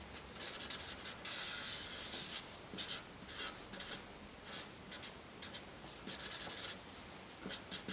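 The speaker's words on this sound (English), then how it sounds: "Let me draw this item." A pen scratches across paper in short, uneven strokes, close and fairly quiet, with brief pauses between bursts of drawing.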